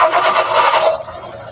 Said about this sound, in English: he's going to start this car from under the hood.